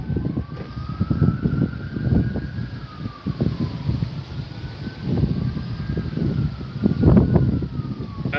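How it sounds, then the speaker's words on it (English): Emergency vehicle sirens wail faintly in the distance near a fast-spreading wildfire, rising and falling over steady wind and rumbling noise, with aircraft droning overhead. "We got sirens"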